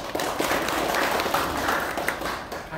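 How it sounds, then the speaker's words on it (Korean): A seated audience at the founding general meeting of the nonprofit Areumdaun Kkum claps for an introduced guest, a steady wash of many hands at moderate volume with some murmuring beneath. "박수로 부탁드리겠습니다."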